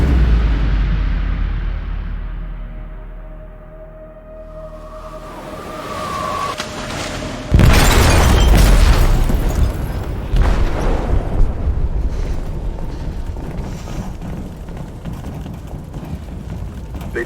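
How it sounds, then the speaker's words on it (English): A loud, sudden explosion aboard a ship in a video game erupts after a low rumbling build, followed by sustained heavy roaring and crackling debris noise. "They detonated an explosive in the hold. The ship is sinking, sir."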